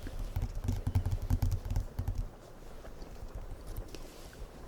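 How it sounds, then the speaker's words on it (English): Tarot cards shuffled by hand in a quiet indoor setting, a run of close, soft riffling and tapping bursts for about two seconds that then fade into faint, sparse handling sounds. "we're gonna really shuffle these cards"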